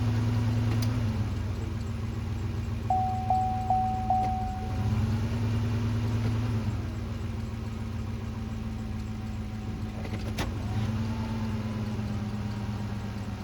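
A 2007 Cadillac DTS engine turns over and settles into a steady idle, a continuous low rumble with a brief higher whine near the start, heard close and unbroken throughout.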